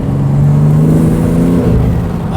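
Engine of a BMW G80 M3 with a manual gearbox, revving loud and close in a steady drone whose pitch climbs gradually before easing off near the end, with no voices.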